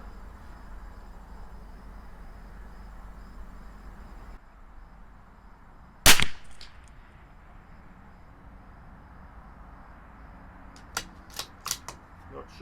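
A CZ 457 LRP rifle firing Eley Tenex ammunition outdoors at a 100-yard range: one sharp, loud shot stands out against steady background noise, followed a few seconds later by a scatter of fainter clicks.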